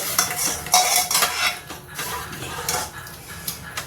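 A spoon stirs khichdi with tomatoes and water in a metal cooking pot, scraping and clinking against the sides in irregular strokes, close and fairly loud, with a faint sizzle beneath.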